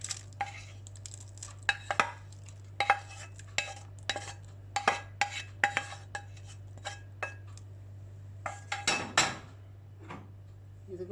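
A spoon clinks and scrapes against a bowl while sautéed onion is mixed into beaten egg. The sharp taps come in quick, irregular bursts over a steady low hum, close and fairly quiet, with no talking.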